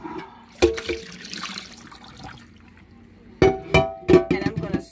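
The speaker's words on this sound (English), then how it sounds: "Okay, so I'm gonna pour this water out." Water poured out of a container during dish washing, two splashing bursts of liquid hitting a sink with clattering handling sounds between them, close by.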